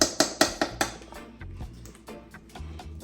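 Batter for Jamaican saltfish fritters stirred in a bowl, a utensil knocking against the side in quick close clinks, regular at first and then looser and quieter.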